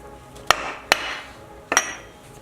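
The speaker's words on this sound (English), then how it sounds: "use a hammer to actually hit the flange down" Hammer striking the flange of a front sway bar bushing bracket down on a BMW E90, with the old bar propped on small wooden blocks: three sharp metallic blows, two close together and a third after a pause, with no talk.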